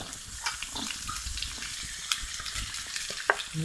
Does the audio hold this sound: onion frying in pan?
yes